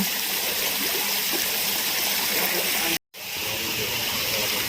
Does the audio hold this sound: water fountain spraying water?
yes